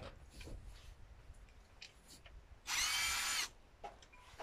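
A power drill drives screws through a static caravan roof during renovation, one loud sustained whirring burst of under a second standing out from quieter background noise and faint clatter.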